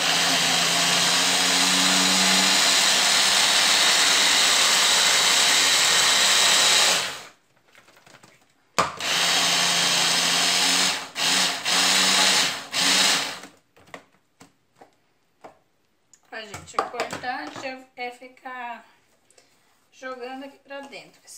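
A food processor grinds garlic, herb leaves and pepper for seasoning: a loud steady motor whir for about seven seconds, then short bursts of pulsing, followed by a person speaking.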